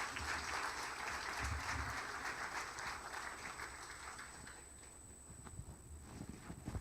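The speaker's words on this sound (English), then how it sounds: "Please applaud for all the speakers" Audience applause at a business marketing summit, a dense broad wash of clapping that fills the room and slowly thins toward the end.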